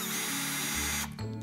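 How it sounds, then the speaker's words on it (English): A power drill whirs steadily at close range while pre-drilling screw holes in wood, its pitch dropping briefly as the bit bites in, then spinning back up. "Now we're going to pre-drill these holes"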